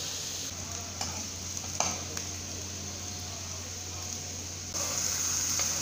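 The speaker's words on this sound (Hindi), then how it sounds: "कटी हुई प्याज को अच्छे से ऑयल के अंदर गोल्डन ब्राउन कलर की होने दीजिए।" Chopped onions fry in plenty of oil, turning golden brown, with a continuous close hiss and crackle, a couple of soft knocks, and the sizzle swelling slightly louder toward the end.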